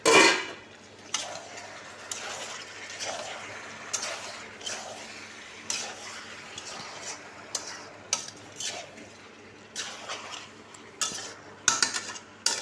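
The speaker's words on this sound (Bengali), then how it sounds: "ঢাকনাটা সরিয়ে আবার ঘেটে নিচ্ছি।" Chicken stew with raw potato being stirred in a pot with the lid off, giving scattered metallic scrapes and clinks of a utensil against the pot over a steady low kitchen hum, close and moderately loud.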